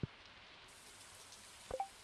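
Soft, steady rain patter in the video game Stardew Valley, a faint, even hiss with a couple of small clicks at the start and near the end.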